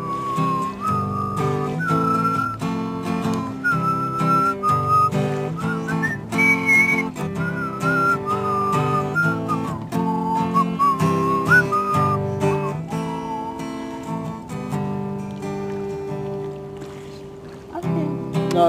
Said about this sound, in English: I've got a whistle now.